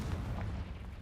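A single burst of the Confringo fire-explosion spell in the game Hogwarts Legacy, cast inside a cave, a loud low boom that rumbles for about a second with no talk.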